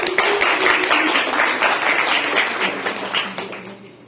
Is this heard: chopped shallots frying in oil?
no